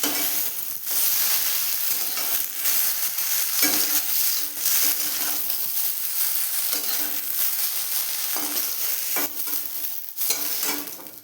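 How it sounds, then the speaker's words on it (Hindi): Fried okra being lifted out of a wok, with steady oil sizzle and frying hiss throughout, broken by scraping stirs and brief pauses where the spatula moves, close and fairly loud, no speech. "तो हम कढ़ाई में से भिंडी को निकाल देंगे।"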